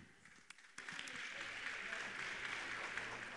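Applause fills a parliamentary-style swearing-in ceremony for alternate councillors of the Citizen Participation and Social Control Council. A sustained, fairly distant wash of clapping swells in after a quieter start.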